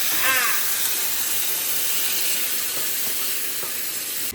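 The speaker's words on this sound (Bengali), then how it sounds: "এই যে এখানে এখন কষা চলছে, কষা মাটন কষা হয়েই গেছে" Marinated mutton sizzles loudly in a pan as it is sautéed for kosha, a steady, close frying hiss that continues unbroken with almost no talk.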